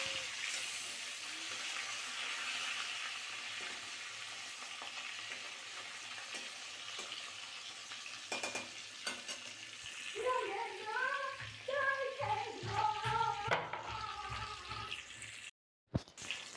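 Fish sizzling and frying in a pan, a steady bright hiss of hot oil throughout with occasional stirring clatter and bubbling bursts toward the end, under some background talk.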